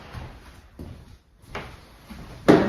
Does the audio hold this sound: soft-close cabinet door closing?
yes